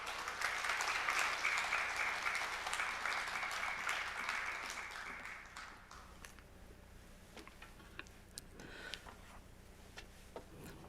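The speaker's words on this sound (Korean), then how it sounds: "우리 사랑과 환영의 마음을 담아서 우리 큰 박수로 모시겠습니다" Church congregation at a Wednesday prayer service applauds to welcome the pastor, a broad, roomy wash of clapping that holds for about five seconds, then fades to a few scattered claps and quiet room noise.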